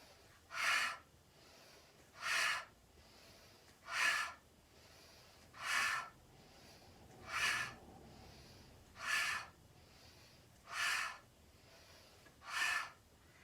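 Rapid rhythmic kundalini yoga breathing: eight strong, evenly spaced breath bursts about every 1.7 seconds, close and alone, with no talking.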